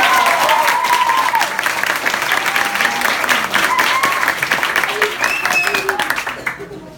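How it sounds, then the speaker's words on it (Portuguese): Audience bursts into loud, dense applause for a poetry reading, sustained for several seconds with scattered voices and cheers over it before fading out. "uma salva de palmas para cá"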